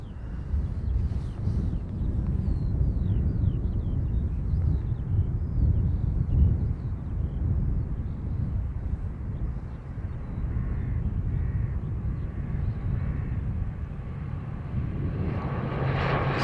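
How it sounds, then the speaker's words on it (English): An ATR turboprop departs Dublin Airport for Southampton with a steady, moderately distant engine drone and propeller roar that holds for the whole stretch, with no one talking. "ATR off to Southampton."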